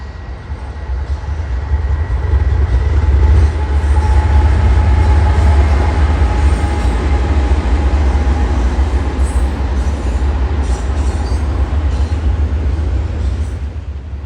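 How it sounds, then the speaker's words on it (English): A freight train led by a warbonnet-painted locomotive climbs an incline toward a trestle, giving a steady, loud rumble with a low engine drone and faint rail clatter that swells slightly midway and holds throughout. "The warbonnet sure does look zesty up there on that incline."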